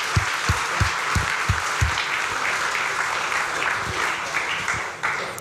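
Audience at a game developers' pitch event in Helsinki applauding, broad steady clapping with a few heavy low thumps early on, continuing evenly before easing off near the end.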